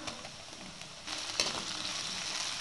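Onions and tomatoes frying in oil in a pan for a ladies finger tamarind curry give a soft, steady sizzle, quiet and close, with a slight rise in intensity partway through and no talking.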